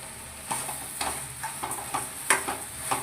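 Carrot halwa with milk and sugar being stirred in a pan: a steady soft sizzle with repeated scraping strokes of a spoon every half second or so, close and moderately quiet, no voices.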